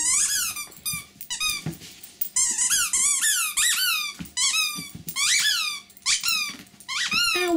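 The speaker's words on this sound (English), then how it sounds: "And a squeaky toy." A dog chews a squeaky toy nonstop, setting off loud, close, high-pitched squeals in rapid bursts with short gaps, along with a faint low growl.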